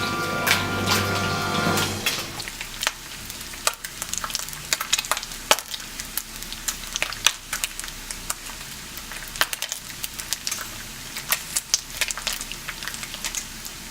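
Bacon sizzles and crackles steadily in a hot pan, with sharp pops scattered throughout after a brief louder burst at the start.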